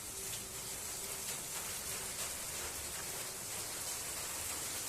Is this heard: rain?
yes